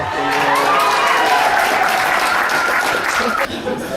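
Audience applauds a stand-up comedian with steady, loud clapping and some cheering, running the full length with a voice speaking over it before it thins near the end.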